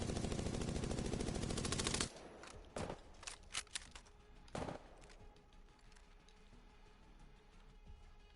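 An SMG in Apex Legends fires on full auto: a dense, loud rapid burst of shots for about two seconds, followed by a few scattered single shots and mechanical clicks fading into quieter ambience.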